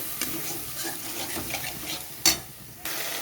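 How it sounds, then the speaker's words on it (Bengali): Ground spices frying with a splash of water in a pan for fish kalia, scraped and stirred with a utensil, soft wet sizzling broken by a few sharp clinks and scrapes close by. "এবারে খুব ভালো করে কষিয়ে নেব মশলার সাথে।"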